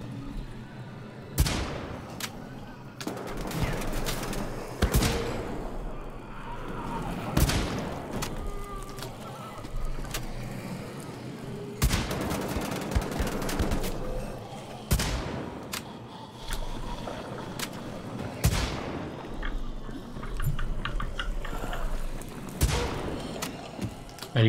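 Repeated loud gunshots from the video game Wolfenstein: The Old Blood crack out at irregular intervals, some in quick bursts, with rumbling booms and occasional talk between the shots.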